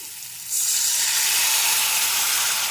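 Tamarind water is poured over fried radish in a hot pan, bursting into a loud, sudden sizzle that holds steady and bright to the end, with no voices.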